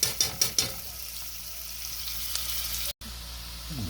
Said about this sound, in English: your onions are starting to fry a little bit